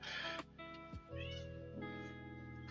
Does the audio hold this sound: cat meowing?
yes